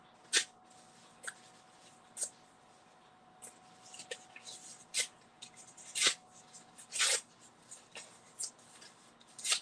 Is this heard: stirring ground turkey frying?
no